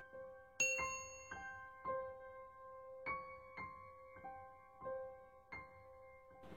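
A chiming notification bell rings through a short melodic sequence of clear, ringing tones, about ten evenly spaced strikes that each decay gently, fairly quiet and alone.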